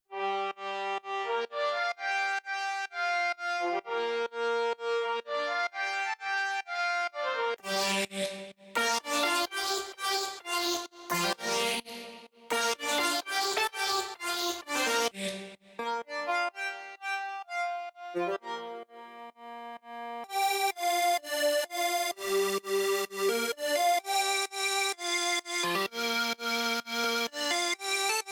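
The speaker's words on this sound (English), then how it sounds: "The lead is made by using some very different brass leads that sounds like this." Brass synth leads built in the Vital synthesizer play a bright, buzzy melody in clean sustained notes, changing timbre between sections, loud and up front with no voices.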